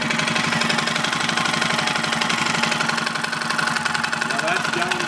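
A 2005 Suzuki King Quad 700 ATV engine with motor problems idles close up, a loud, rapid, steady ticking and knocking rhythm over a constant mechanical rumble lasting the whole stretch.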